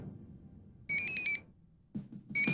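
A mobile phone ringtone rings in two short electronic bursts of bright, warbling tones, loud and near, with a quiet pause between them and no talk.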